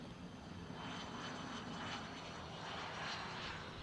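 Airliner on final approach to land at Ontario International Airport, a steady, broad engine roar that holds loud and even throughout with no voices.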